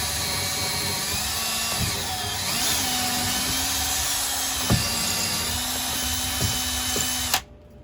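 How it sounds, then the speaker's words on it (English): A power drill boring a pilot hole into wood during a garage electrical upgrade: a loud, steady motor whine up close for about seven seconds, with its pitch shifting under load before it cuts off abruptly. "let's do pilot hole, and then we'll put that in there. We got to hit some wood here"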